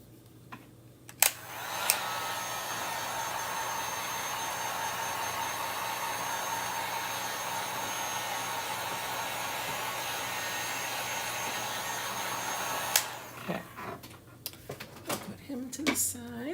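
A hair dryer blows steadily to dry chalk paint on a wooden tier tray, a loud, continuous whoosh running for about eleven seconds before cutting off, followed by light clatter and handling noises.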